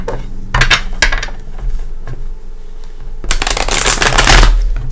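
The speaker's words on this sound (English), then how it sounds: "Give it a couple shuffles." Tarot cards shuffled at close range, two loud riffling bursts with a busy clattery texture, one near the start and a longer one toward the end, with no talking.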